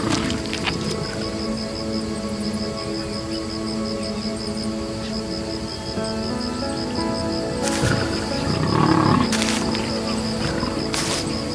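Lions on the African savannah give low growls and roars under a steady tonal backdrop, with a louder rough burst of roaring near the end.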